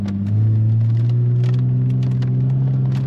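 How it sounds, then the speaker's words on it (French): A sporty German coupe rounds a small roundabout, its engine holding a steady low rumble close by with faint tyre and cabin noises over the top. "Alors ce petit rond-point là, moi j'aime bien, c'est juste voir comment la voiture réagit en tournant."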